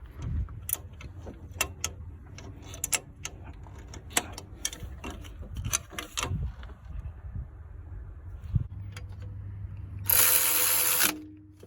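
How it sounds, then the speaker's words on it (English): Sharp metallic clicks from a wrench tightening a 12 mm alternator nut and a 14 mm bolt on a Honda Accord, irregular and close, ending in a loud broadband burst of noise. "Now we can tighten our 12 millimeter nut on the bottom, and then our 14 millimeter bolt in the top."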